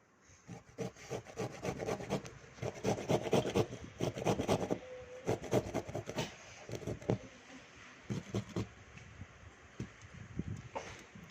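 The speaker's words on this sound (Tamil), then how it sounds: "தேங்காவை வந்து புட்டுக்காக துருவிக்கணும்." Coconut grated by hand for ragi puttu, giving a steady run of rough rasping scrapes in quick rhythmic bursts, close and fairly loud, with short pauses between strokes.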